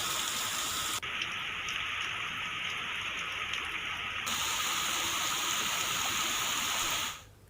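Heavy monsoon rain pours down steadily in Kaimur, a dense, loud and unbroken hiss of falling water that fills the whole stretch before cutting off near the end.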